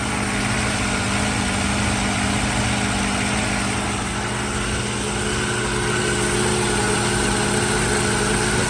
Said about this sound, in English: It's a cold start, so we obviously have to wait until it warms up fully.